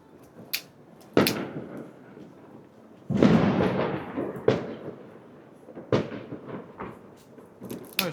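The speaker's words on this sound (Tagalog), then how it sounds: "Ayun na yung paputok natin." New Year fireworks and firecrackers go off in a series of sharp, loud bangs and booming bursts, some followed by crackling tails, with irregular spacing between blasts and little talk.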